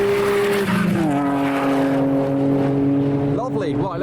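A modified Nissan Skyline R33 revs hard with a sustained tire squeal as it drifts sideways, rising and falling in pitch, loud and close, with talk over it.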